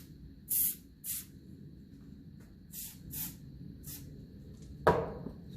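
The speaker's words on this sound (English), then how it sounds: "I'll try and get a bit of spray in there." Short bursts of penetrating spray from an aerosol can hiss into a part of a 1954 Ferguson 20 TEF diesel tractor, five or six close puffs separated by pauses, followed by a sharper clank near the end.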